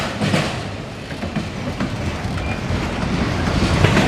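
An eastbound CSX freight train hauling autoracks pulls out of Marion, Ohio, a loud steady rumble of cars rolling past nearby with rhythmic wheel clatter and no talking.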